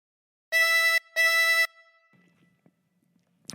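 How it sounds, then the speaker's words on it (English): Two sustained blow notes on hole 8 of a harmonica, each held about half a second with a short gap between, loud and close, then a faint low murmur afterward. "Blow into 8 twice."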